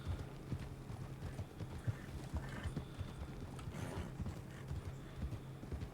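Horse hooves clip-clop in a quick, steady rhythm in the Red Dead video game, continuing without a break.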